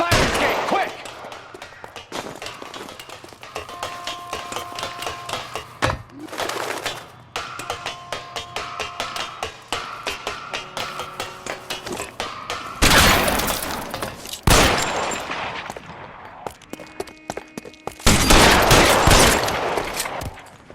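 Rapid gunfire in an L.A. Noire shootout, with bursts of shots cracking repeatedly over several seconds, heavy loud blasts and glassy shattering impacts, interspersed with quieter gaps and faint voices.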